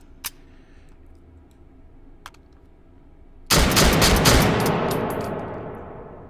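A shotgun blast in the virtual reality shooter H3VR, one loud close report after a few faint clicks of handling, followed by a long fading ring with crackling tail.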